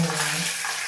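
Mustard seeds splutter and crackle in hot oil, a dense, bright sizzle that runs throughout the brief moment with no voices.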